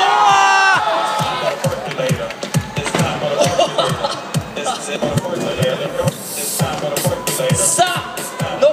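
Crowd noise at the G-Shock Shock the World 2011 skateboarding final in Tokyo, a lively mix of cheering, shouts and laughter with clattering board impacts, under an announcer's voice.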